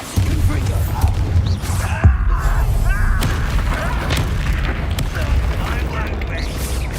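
A Bombarda spell blast in the video game Hogwarts Legacy rumbles as a loud, booming explosion under continuous game noise and background sound, with a sharp thud near the two-second mark.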